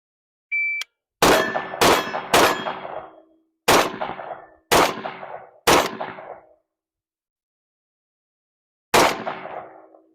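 Rifle fitted with an LPVO firing at steel targets at 20, 100 and 200 yards, sharp isolated reports each followed by a ringing metallic clang, spaced in quick groups with gaps, preceded by a short electronic timer beep.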